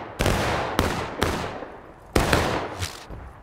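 Muskets fire in the War of Rights video game during a skirmish in the East Woods: five sharp, booming reports spaced irregularly, each trailing a long echoing decay, with no voices over them.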